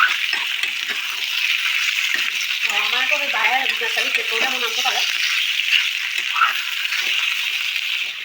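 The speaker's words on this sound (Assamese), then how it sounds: "ধুনীয়াকৈ আদা নহৰু পিঁয়াজ আৰু ভোট জলকীয়াখিনি অকণ ৰঙচুৱাকৈ ভাজি তাতে এতিয়া এড কৰিছোঁ চিকেনখিনি" Chicken frying in a pan with ginger, garlic, onion and chilli, giving a bright steady sizzle with a brief stretch of voice over the top.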